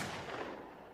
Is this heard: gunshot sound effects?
yes